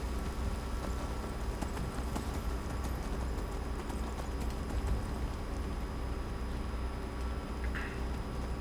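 Rhythmic clip-clop of horse hooves in Skyrim, fairly quiet and continuous over a steady background hum.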